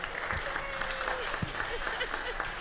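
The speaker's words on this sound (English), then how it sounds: "Let's give Ann a round of applause." Applause for a neighborhood center director at a community gathering, a dense patter of hands held at steady volume for a few seconds, with voices murmuring underneath.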